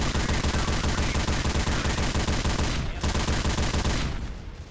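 A mounted heavy machine gun in Left 4 Dead 2 fires in a loud, sustained burst of rapid shots. The firing breaks briefly near the middle, resumes, and tapers off at the end.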